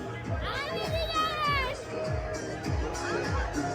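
A dense, close crowd mills about at the Mhasa yatra fair, a large village festival in Maharashtra, with continuous babble and overlapping voices. Nearby people talk over the hubbub the whole time.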